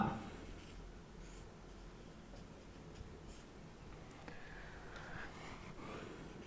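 Pen scratching across paper as notes are handwritten during a lesson on the Indian President's military powers, quiet soft strokes and ticks at close range with no talk.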